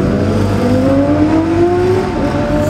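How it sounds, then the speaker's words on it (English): Mark Herbertson's red Kawasaki superbike races past at the Classic TT superbike race, its engine a loud, close, rising whine that climbs steadily in pitch as it speeds by. "This is number 57, Mark Herbertson's red Kawasaki."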